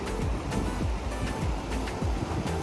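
The Virgin River in Zion flows as a steady, fairly close rush of water, with no talk.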